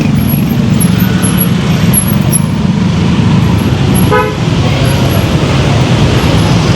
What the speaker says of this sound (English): This is the traffic.